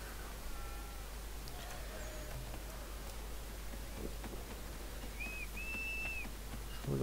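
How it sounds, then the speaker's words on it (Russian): A short pair of whistled tones rings out in Assassin's Creed III, one brief and one held a little longer, both late in the moment and fairly faint over a steady hiss of game ambience. "Что там кто свистит? Что за свистун?"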